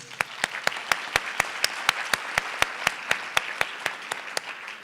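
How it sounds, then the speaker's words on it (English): At a Teacher of the Year awards ceremony, an audience applauds with a sustained crowd clapping, punctuated by sharp, evenly spaced louder claps that keep a steady beat throughout. "Please hold your applause for our sponsors and supporters"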